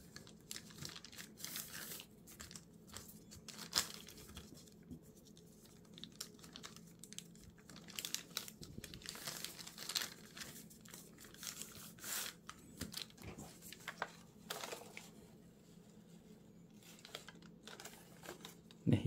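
Paper being folded for a demon origami figure, a string of soft close crinkles, creases and taps at an uneven pace, quiet, with no one talking.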